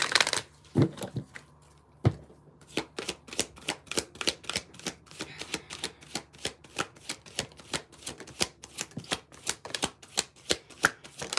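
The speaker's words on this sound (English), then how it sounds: "I have shuffled all these decks, but I'm just doing it again." Tarot cards are shuffled repeatedly in quick, crisp riffles and snaps, a rapid rhythmic flutter of slaps close up, with no talking.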